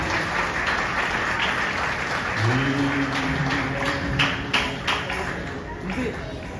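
Wedding guests clap together in a broad, continuous wash of applause, with a voice talking and some tonal music or singing woven underneath.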